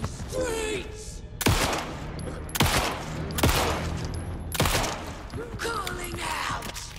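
Gunfire in the video game Alan Wake 2, several heavy booming shots spaced a second or so apart with mechanical clatter between, alongside a voice and game sounds.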